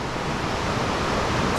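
River water running off the mountains and flooding a hiking trail on the Appalachian Trail, a loud, continuous broadband rush of flowing water close by, with no voices.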